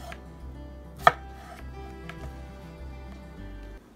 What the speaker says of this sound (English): So we're just gonna cut them roughly in those type of pieces for mashed potatoes.